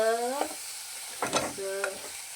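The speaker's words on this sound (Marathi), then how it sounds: "असं मस्त हलवायचं थोडस" Halved cashews being stirred into masala rice in a pressure cooker pot, with a few scraping strokes of a spoon against the metal and some soft sizzling.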